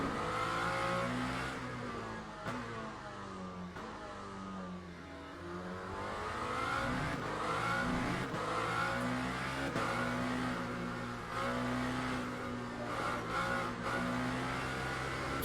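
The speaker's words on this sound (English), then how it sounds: "Feathering the throttle there." Race car engine revving in Le Mans Ultimate at the COTA National circuit, a loud, continuous sim-racing drone rising and dipping as the throttle is feathered, with pitch sweeping down and back up mid-run, no talk.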